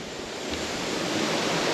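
Sea waves at Butas-butas beach in Mauban, Quezon, a steady broad wash of surf that swells slightly louder, close and continuous with no voices.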